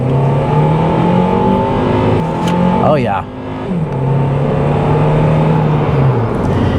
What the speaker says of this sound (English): That VTEC kicked in perfectly.